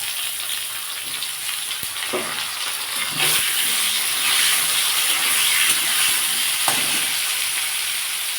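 Potatoes and tomatoes fry with ginger paste in a pan, giving a continuous close sizzle and hiss that swells slightly midway, with a few soft stirring knocks and no talking.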